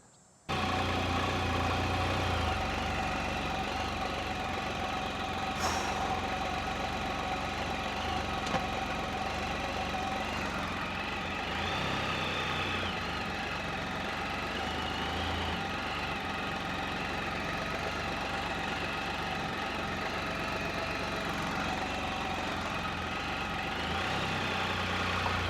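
A Can-Am Spyder engine runs steadily at a low idle-like drone, close and continuous throughout, as the machine is ridden up makeshift plywood ramps into an enclosed trailer.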